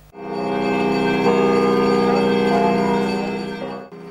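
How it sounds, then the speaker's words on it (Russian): Sustained ringing of large church bells marking the start of a religious procession, with a dense, humming resonance, loud and continuous for several seconds before fading out. "Звон колоколов оглашает начало крестного хода."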